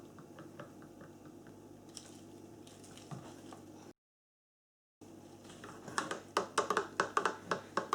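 A stainless steel spoon stirs cold process soap batter, soft and close, then after a short gap becomes faster, with sharper scraping and tapping strokes.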